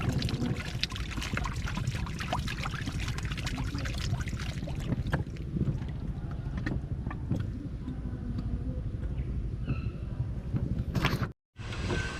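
Water gushes hard from a municipal water main pipe broken by a backhoe, a loud continuous rushing and splashing that runs steadily before a brief dropout near the end.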